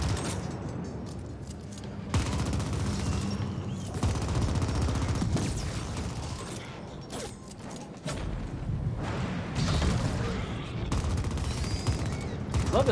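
Continuous gunfire in the twin-stick shooter The Ascent, rapid bursts and shots layered with mechanical clanks and clatter, loud and steady with no pauses.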